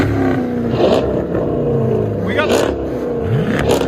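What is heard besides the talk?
Chrysler 300C 5.7L HEMI V8 engine revving with aftermarket exhaust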